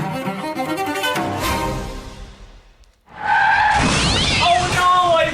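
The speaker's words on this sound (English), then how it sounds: "Oh no, I've been in a car accident!" Car tires skid and squeal loudly in a crash, the screech rising after a brief near-silent gap and holding strong to the end, following a stretch of music and voices.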